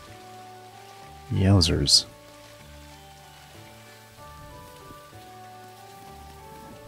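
Rain in the video game Dinkum, a soft steady patter under quiet tonal game music, interrupted early by a brief excited exclamation from a man.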